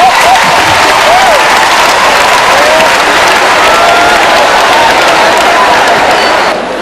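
Loud, continuous applause and cheering from a comedy show audience fill the room, a dense crowd roar with scattered whistles and shouts that holds steady before easing slightly at the end.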